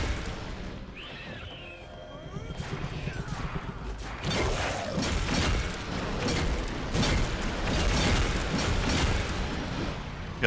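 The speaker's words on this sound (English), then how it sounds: "That explosion that crystallizes them is really nice." Crystallizing explosions in the Atlas Fallen action game, dense rumbling blasts and crashing impacts building up and continuing through combat, fairly loud with layered game effects.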